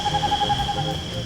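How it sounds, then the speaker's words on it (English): A Santa Marta screech owl, a Colombian mountain species, gives a quick run of pulsed, evenly spaced hooting notes, with a high steady insect drone underneath. "The Santa Marta screech owl."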